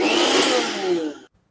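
A repaired mixer grinder with a newly replaced coupling runs with a loud, steady high whine for just over a second, then cuts off abruptly into silence.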